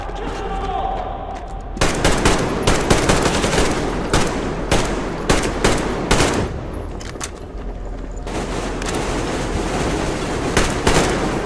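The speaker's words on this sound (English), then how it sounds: "Covering fire for the Colonel! No saving ammo!" Sustained covering fire from several guns in the Metro Exodus shooter game, dense rapid bursts of automatic gunfire over a constant low rumble, loud and continuous for the whole stretch, with a brief voice shout mixed in.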